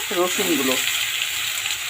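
Crushed garlic dropped into frying spice paste for a crab dish, a brief steady sizzle with a faint voice-like murmur near the start.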